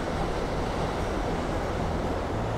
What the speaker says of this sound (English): I could sit here and just enjoy the waves for hours